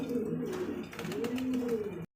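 A pair of uncommon fancy pigeons, Indian Fantail King or Lahori Satin types, coo close by, two soft rolling coos in a row, then sudden silence.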